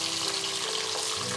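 Garlic frying in hot oil for a Malaysian fish head curry gives a steady, dense sizzle with a watery hiss. It holds at an even level, close and continuous, with no talking.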